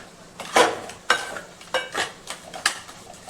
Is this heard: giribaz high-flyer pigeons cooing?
no